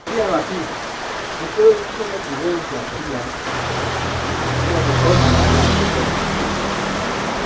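Steady broadband rain hiss with voices talking underneath early on, the downpour swelling slightly louder in the latter half.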